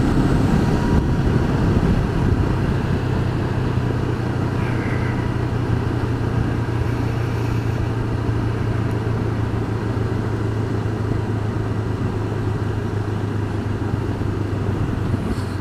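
A Honda CB500X motorcycle engine drones steadily while riding, a low constant hum under thick wind rush with no pauses or shifts across the stretch.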